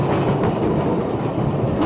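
An engineless gravity train coasts downhill on the Ffestiniog Railway, a loud, close, continuous rumble of wheels on rail with faint rhythmic clicks, and no voices.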